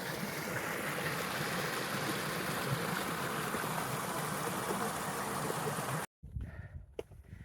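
Death Canyon Creek in the Sierra Nevada rushing along a mountain trail, a loud, steady broadband roar of flowing water close by that cuts off abruptly near the end into quieter outdoor sound.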